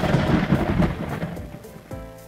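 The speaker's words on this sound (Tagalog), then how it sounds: "At ito ang ating naririnig bilang kulog." Thunder rolls with a deep, loud rumble amid falling rain. It booms strongly at first, then slowly fades over a couple of seconds, with the patter of rain continuing beneath it.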